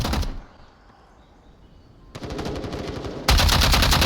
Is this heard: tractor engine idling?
no